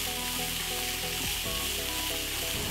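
Spicy lemongrass meatballs sizzle steadily in a hot pan, a dense crackling fry holding even throughout while the pan is swirled, with a brief scraping shift of the pan partway through and no talking.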